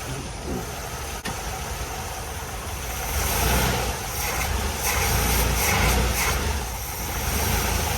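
A 1978 Chevy Malibu engine that had sat for 23 years runs through the gears, a loud close rumble that swells as it revs and holds steady.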